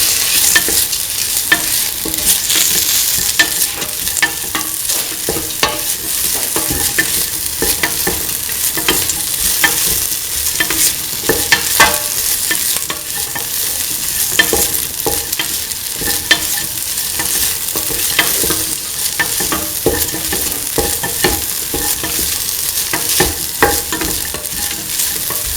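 Tomato coconut rice with curry leaves and sprigs being stirred in a hot pan, a steady close scraping and stirring over continuous loud frying sizzle with no talk.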